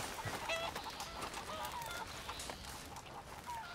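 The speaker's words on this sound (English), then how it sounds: "he's surrounded by chickens." Chickens cluck and squawk faintly in a video game scene from Red Dead Redemption 2, with scattered short calls over a soft ambient background.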